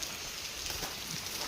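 Heavy rain pours outdoors as a steady, close, hissing wash of drops, unbroken and even throughout, with no voices over it.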